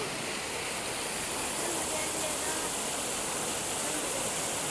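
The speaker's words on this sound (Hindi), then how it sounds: "झरना बह रहा है, आबशार है," A heavy waterfall in a Kashmir mountain village near the Line of Control: a dense, constant roar of rushing water, loud and unbroken throughout with no pauses.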